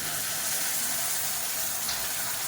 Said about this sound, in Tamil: இப்போ இதில் புளி தண்ணி சேர்த்துக்கலாம் கொஞ்சமாக